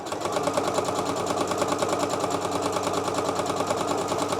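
A sewing machine runs steadily while stitching long quilt strips together for a flag quilt, making a continuous, evenly pulsing mechanical whir that holds at one loudness throughout.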